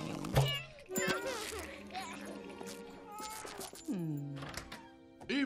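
A cat meows several times, drawn-out and plaintive, mixed with children's voices chattering nearby and a thump at the start.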